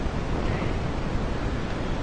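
Strong wind on a blustery day outdoors roars steadily and loudly, buffeting the microphone with a continuous rushing noise and no voices.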